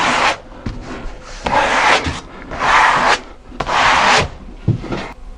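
Rhythmic rubbing strokes as a glass-fibre wall covering seam is pressed and smoothed flat on a renovation wall, four long rasping sweeps with short quiet gaps between them.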